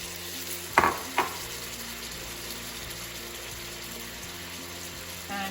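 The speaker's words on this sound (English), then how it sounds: "I'm going to add just a little touch of that porcini liquid" Porcini mushroom liquid poured into a hot pan of ravioli sauce with hazelnut butter, a couple of sharp splashy hits followed by a steady close sizzle and faint stirring, no talk.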